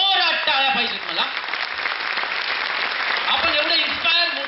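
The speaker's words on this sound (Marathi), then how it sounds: "सरांसाठी जोरात टाळ्या पाहिजेत मला" Audience applause greets a guest speaker at a motivational talk, a broad steady clatter of many hands filling the middle of the clip, with a host's voice speaking before and after it.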